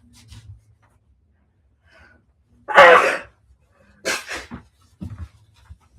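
A single loud human sneeze, close and abrupt, followed by two shorter bursts like sniffs or a second smaller sneeze, in an otherwise quiet room with faint low rumble.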